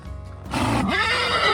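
An Arabian horse on a Montana mountain trail gives one loud, close whinny that starts about half a second in, with hoof clops faintly beneath it.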